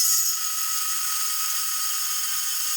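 A power drill fitted with a cheap, poor-quality bit grinds into material with a high, thin whine, steady and fairly close, alone without talk.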